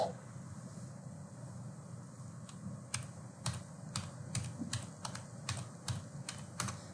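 Keys clack on a computer keyboard as a phone number is entered, a run of sharp separate taps that come quicker toward the end, over a steady low hum in a quiet room.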